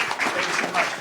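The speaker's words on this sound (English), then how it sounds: "Give a round of applause for Robert Cheeke." Applause from an audience at a talk on plant-based bodybuilding, a loud, brief burst of crowd clapping with some indistinct voices mixed in.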